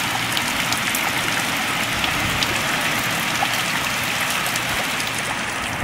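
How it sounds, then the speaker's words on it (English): Steady rain falls in a constant dense hiss of drops, close and fairly loud, with no pauses and no voices. "And looks like we might get a little bit more rain."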